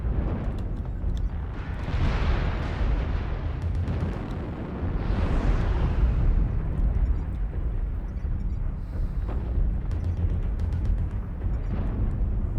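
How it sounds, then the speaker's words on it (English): Rumbling missile impacts in the MechWarrior video game, a continuous barrage of booming explosions and bursts rolling over each other at loud, steady intensity with no clear gaps. "Wow, that's a lot of missiles."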